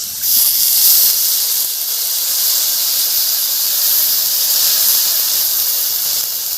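Bathua (betho) greens hit hot oil in a pan with fried beans, potatoes and turmeric, giving a steady, close, bright sizzle that holds evenly throughout with no talking.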